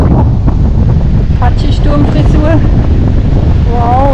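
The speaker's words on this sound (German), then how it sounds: "Wow, jetzt stürmt es aber gescheit." Strong gusty northeast wind at a lakeside camp by the Rothsee buffets the microphone in a loud, constant roar that swells and dips with the gusts, while someone talks over it.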